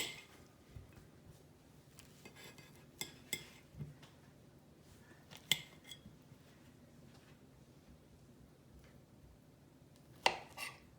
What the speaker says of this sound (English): right now what I do is just cut it in a smaller piece where you can just use the fork